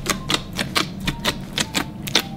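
Thick Nickelodeon slime is squished and mixed by hand into a big slime smoothie, giving a rapid run of close, crisp clicking pops at an even pace, with no voices.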